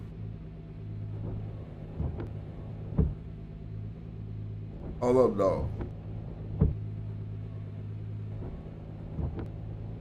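A car engine in a racing video game, driven slowly in a wet race against a crowded field, drones steadily at a low pitch with faint thumps, while someone speaks briefly over it.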